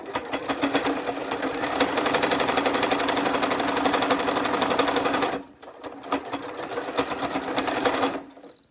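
A sewing machine stitches a fabric accessory roll in fast, rhythmic mechanical chattering, stops briefly, then resumes for a short reverse-stitch burst before halting, close and loud with no talking.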